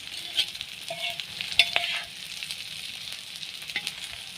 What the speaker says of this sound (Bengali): এভাবে আমি কিছুক্ষণ ভেজে নেব